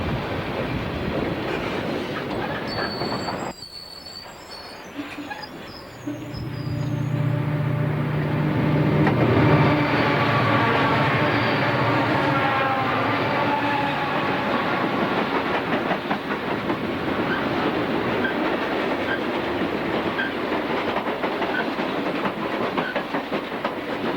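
A Southern Pacific train rumbles close by, pulling onto a 6,300-foot siding on the Coast Line, its wheels clattering and squealing as it slows, with a steady mechanical drone and brief high-pitched screeches early on.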